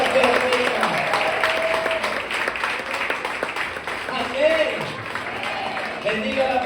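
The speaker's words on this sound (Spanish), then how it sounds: "alguien que pueda darle el mejor de los aplausos al que vive y al que reina" A church congregation applauds during a service, a continuous rush of clapping with voices calling out and shouting over it, fairly loud and sustained throughout.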